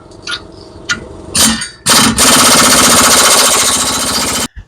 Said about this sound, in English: I'm going to get out the air impact and we're going to try that.